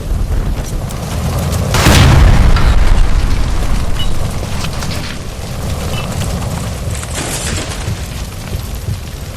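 A gas line blown apart by gunfire beside a stove in L.A. Noire, a loud, heavy boom that swells into a long rumbling roar and then fades into lingering crackle and debris.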